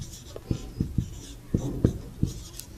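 Pen or pencil writing out C program code by hand, a series of short scratching strokes in an uneven rhythm, close and fairly quiet, with no voice.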